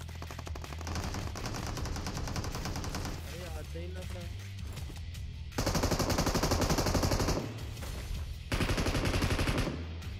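Rapid automatic gunfire in the mobile shooter BGMI rattles in sustained bursts, growing louder and denser near the end, with a voice talking faintly underneath.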